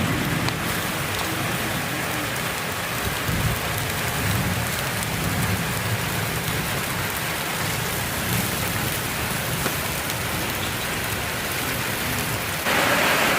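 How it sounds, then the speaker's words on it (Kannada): Steady rain falls outside a shed during an evening barbecue, a dense even hiss of drops on surfaces with no voices, holding constant throughout. "ಮಳೆ ಬರ್ತಾ ಇದೆ, ನೋಡೋ ಹುಡುಕ್ತಿದೆ ನೋಡಿ, ಅಲ್ಲಿ ತೋರಿಸ್ತೀನಿ ಬೇಕಿದ್ರೆ."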